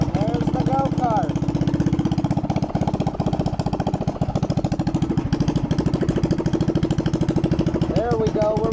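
A minibike engine runs with a new exhaust, a loud, rapid, steady putter close by that swells in brief revs, with voices talking over it.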